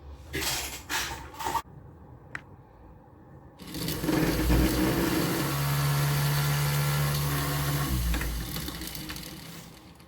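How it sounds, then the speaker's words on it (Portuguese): A homemade single-phase brushless motor run at 9 volts spins up with a steady mechanical hum and faint whine, following some clicks and handling noises at the start. "liguei com 9 volts, agora eu vou aumentar um pouco a tensão aqui para ver se eu consigo fazer esse motor girar mais rápido"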